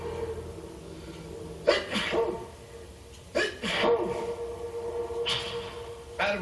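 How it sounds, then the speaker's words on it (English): Three sharp, sudden sneezes from a man, each a loud burst spaced a couple of seconds apart over a steady room hum, with no talking between them. "he's sneezing in blue"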